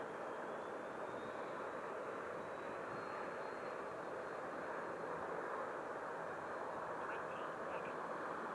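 A Freewing F-18 90mm electric ducted-fan RC jet flies at a distance, giving a steady, faint whooshing whine that holds constant throughout with no talk.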